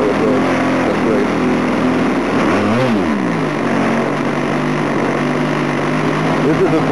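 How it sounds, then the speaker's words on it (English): An OS 46 LA model engine with a tuned, bored-out carburetor idles loudly and roughly close by, its pitch sagging briefly as it falters and nearly dies. "When I slow down for many more now, the engine will die."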